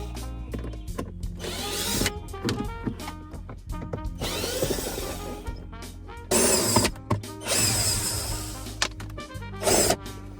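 A power drill whirs in repeated short bursts, removing screws from the center console of a 2007–2014 Chevy Tahoe, with clicks and handling noises between runs.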